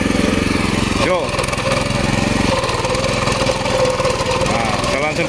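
A hand cultivator with a Kenza 830 engine runs loud and steady with an even, chugging rhythm, its throttle raised slightly, while someone talks over it.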